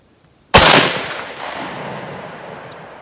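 A Mosin rifle fires one sharp, loud shot at a shooting range, and the report rolls away in a long fading echo.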